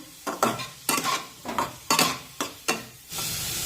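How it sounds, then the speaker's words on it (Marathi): Onion fries in oil while a spatula stirs it in a steady rhythm, six or seven sharp scraping strokes against the pan over a constant sizzle, close and clear with no speech. "उलटण्याने कांदा सतत परतत राहायचं"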